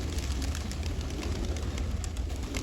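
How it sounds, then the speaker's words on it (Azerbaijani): Pigeons in a flock kept by an owner in Khachmaz coo in low, rolling, repeated murmurs over a constant background hum, with no talking. "Mənim quşlarım çoxdur."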